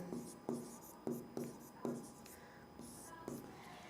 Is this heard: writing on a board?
yes